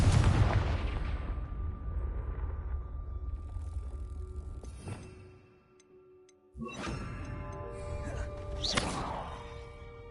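A Confringo fire-blast spell in Hogwarts Legacy bursts with a loud, booming crack that trails off into rumbling, followed after a short lull by further sharp magical blasts and crackling, with no speech.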